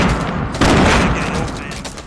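Gunfire and grenade blasts in a shooter video game come as a loud, dense burst of explosive booms and rattling shots, crowding the whole clip and peaking sharply partway through.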